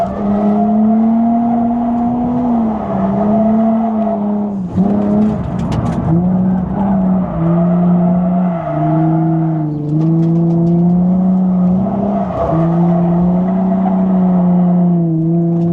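A rebuilt Nissan 350Z with an angle kit drifting on a track day, its engine held loud and close at high revs with shifting pitch, brief dips and surges as the handbrake is pulled, plus faint tire noise.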